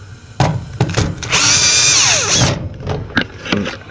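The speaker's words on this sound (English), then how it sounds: "reverse position of the drill, got one screw there, remove it" A power drill in reverse whirs loudly for about a second removing a screw from a Whirlpool Duet washer, a rising, then falling whine, surrounded by a few sharp clunks and knocks of handling nearby.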